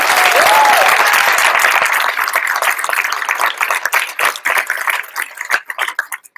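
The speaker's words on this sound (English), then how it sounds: "So please give a loud applause for them" An audience at a women-in-tech launch event in Toronto bursts into loud, dense applause that gradually thins into scattered individual claps as it fades.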